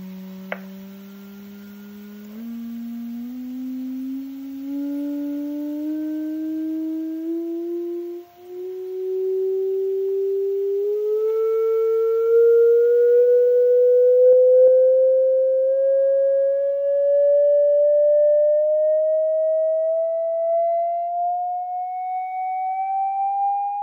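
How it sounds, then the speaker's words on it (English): A cymatics device emits a steady pure sine tone that glides smoothly upward in pitch throughout, loud and unbroken, with a faint harmonic above it and no voices. "Now I'm gonna keep changing the frequency and go higher."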